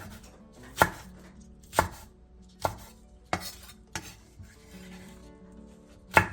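A knife chopping large green onion on a cutting board, six sharp, close thuds about a second apart with quieter slicing and shuffling sounds between, no talking.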